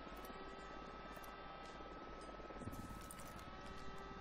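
A helicopter in the video game Ghost Recon Wildlands drones steadily with a low rotor hum and buzz, faint and constant, swelling slightly partway through.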